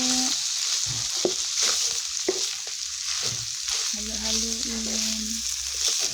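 Cabbage and carrots stir-fried in a pan, with a steady, close sizzle and intermittent scraping and stirring strokes continuing throughout.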